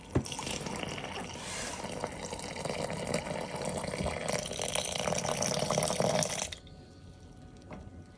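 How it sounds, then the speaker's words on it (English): Water runs steadily into a jar of flour for a sourdough starter, a continuous splashing pour lasting several seconds before stopping abruptly, with only faint room noise after. "so that I can put water in it"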